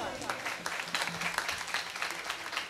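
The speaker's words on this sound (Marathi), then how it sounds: "आमच्या मंडळींसाठी एकदा पुन्हा जोरदार टाळी वाजवा, अजून एकदा जोरदार" An audience gives a burst of clapping after a kirtan, dense and lively for a few seconds with no one speaking.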